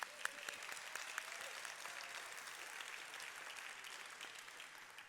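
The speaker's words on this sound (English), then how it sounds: "That number does merit applause" Audience applause at a humanities discussion event, a steady, even wash of many hands clapping heard from a distance at low level, with no voices over it.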